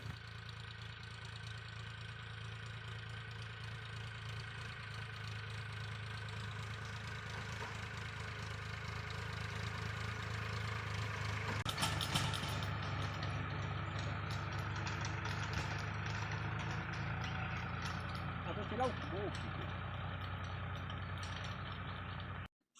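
A tractor engine runs steadily in a farm field, a continuous low idling drone that stays fairly close and even for the whole stretch. It cuts off abruptly at the end, with no talking.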